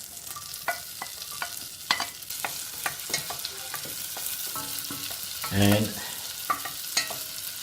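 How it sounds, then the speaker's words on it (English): Chopped onions fry in a pan for mushroom soup, a steady close sizzle broken by repeated spoon scrapes and stirring clicks, with one louder burst of crackling near the end and a brief spoken word. "We're gonna add the onions"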